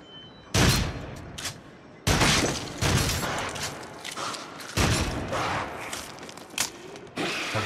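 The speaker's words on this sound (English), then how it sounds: "That flare gun." A flare gun fires in the VR shooter Rush of Blood: several loud, sharp blasts spaced a second or two apart, each followed by a crackling, fizzing decay, with smaller bangs in between.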